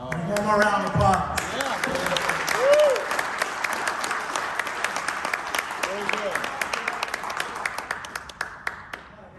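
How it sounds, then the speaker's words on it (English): Sustained audience applause fills the space, dense clapping from a crowd that starts strong and gradually thins toward the end, with some voices and whoops mixed in at the start. "One more round of applause."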